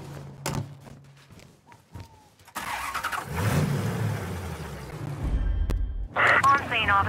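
A truck engine in Mafia III cranks over and catches, then settles into a mid-pitched idle and revs. It sits close and fairly loud, with clunks and thuds around it and voices talking over it.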